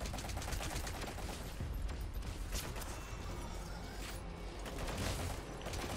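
Gunfire in the video game Metal Gear Solid V: The Phantom Pain, rapid bursts of shots over dense continuous game noise, loud and sustained throughout with no clear pauses.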